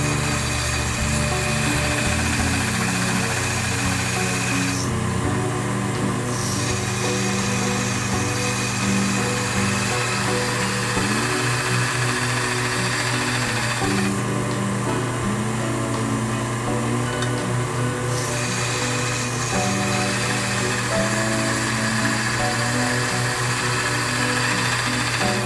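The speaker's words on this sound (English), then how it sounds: "I decided I wanted to remove the teeth of the file from the spine of the blade" Grinding file teeth off the spine of a steel knife blade while making a dao knife, with a loud, continuous power-tool drone throughout and brief shifts in tone as the grind changes.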